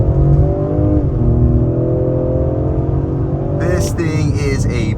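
A 2023 Ford Explorer ST sporty SUV launches off the line after brake torquing, its engine droning steadily and close as it accelerates, with an excited voice shouting briefly near the end.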